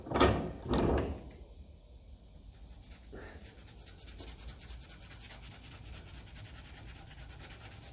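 Sanding on the metal seal surface of a Massey Ferguson 35 tractor: two strong rubbing strokes up close, then a steady softer scratchy abrasion that continues to the end.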